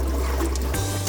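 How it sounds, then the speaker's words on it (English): Water runs from a motorhome tap, a steady close trickle and splash with a low pump-like hum underneath that shifts partway through. "Leave the water taps open until the water flows out free of bubbles."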